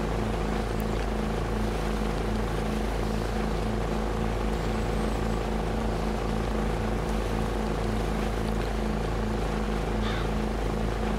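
A helicopter flying in the video game DayZ Origins, a loud continuous rotor thump with a low pulsing drone that holds steady and close for the whole stretch.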